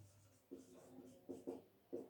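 Pen scratching on paper while taking notes in a physics lesson, a few short, quiet strokes in quick succession, close by, with faint speech.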